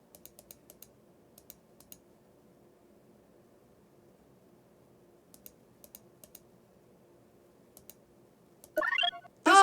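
Computer mouse clicks while playing Where in the World is Carmen Sandiego: faint, scattered single and double clicks spaced over several seconds, followed by a louder burst of other sound at the very end.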